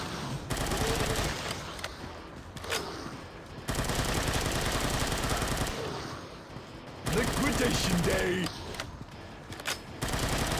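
Rapid gunfire from a zombie-shooter video game, Unkilled, with bursts of automatic fire in repeated clusters over a dense game soundtrack, loud and close, with brief pauses between volleys.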